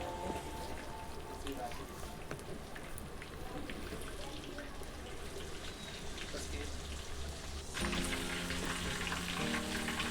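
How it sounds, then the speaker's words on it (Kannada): Marinated chicken pepper kebab pieces frying in hot oil give a dense, steady crackling sizzle that carries loud and close for the whole stretch, swelling slightly near the end. "ನಾನಿಲ್ಲಿ ಮ್ಯಾರಿನೇಟ್ ಮಾಡಿರೋದು ಚಿಕನ್ನ ಎಣ್ಣೆಯಲ್ಲಿ ಫ್ರೈ ಮಾಡ್ಕೊತಾ ಇದ್ದೀನಿ."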